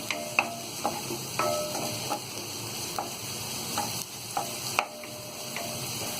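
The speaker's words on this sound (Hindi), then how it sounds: "ये प्याज हमने हल्की फ्राई कर ली है।" Onions and spring onions fry over medium heat in a pan for white sauce pasta, a constant close sizzle broken by sharp spatula clicks against the pan every second or so, with no voices.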